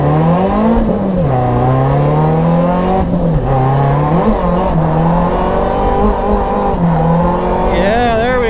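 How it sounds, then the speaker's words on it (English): A Toyota AE86 drifts at high speed on a track, its engine howling at steady high revs with wavering pitch through the slides, loud and close throughout. "we're gonna do some high-speed drifts here"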